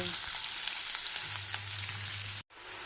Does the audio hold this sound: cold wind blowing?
no